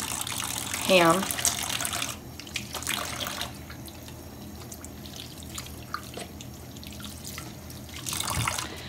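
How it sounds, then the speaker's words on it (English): Tap water runs into a sink during handwashing in a home kitchen, a steady broadband wash with a few drips early on and a brief louder surge near the end, while a person speaks. "we're going to wash our hands"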